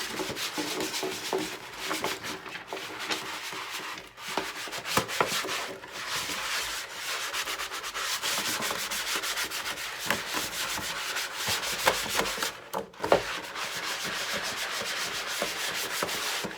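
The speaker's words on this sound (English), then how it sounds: "Just want to make sure you go all over the mat thoroughly in a circular motion." A Cricut cutting mat is scrubbed clean in steady circular motions, giving a continuous close rubbing, scraping texture that holds for the whole stretch with only brief pauses and no talk.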